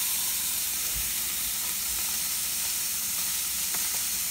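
Chopped onion sizzles in hot oil for a homemade pizza sauce, a constant bright frying hiss close to the pan with a few soft stirring knocks.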